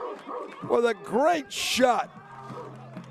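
A song played over the gym sound system at a Lady Bulldogs high school bi-district playoff game, with barking and woofing vocals under a commentator's voice and crowd noise.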